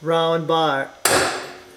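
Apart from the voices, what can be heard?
hammer striking a center punch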